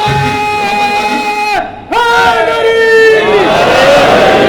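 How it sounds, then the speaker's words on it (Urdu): An audience at a Muharram majlis in a mosque shouts a religious slogan together, a loud sustained chant of many voices that breaks off briefly and then resumes strongly. "یہ نعرہ اچھا ہے, لیکن یہ بیفور ٹائم آ گیا"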